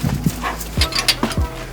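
A puppy barks a few short, sharp yips close by in a garage during a turbo swap, the brief barks rising over low background noise.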